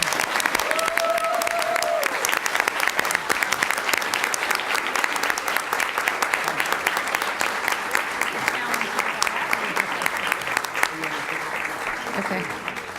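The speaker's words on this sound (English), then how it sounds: "Now we can clap." Sustained applause from a school board meeting audience for students and their coaches, steady and dense clapping throughout with light crowd murmur.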